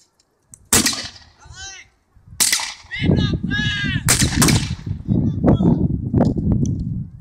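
Musket and rifle gunfire at a historical battle reenactment at Rufford Abbey: several sharp, loud shots spaced a second or two apart, ringing across an outdoor field, with someone talking continuously over them.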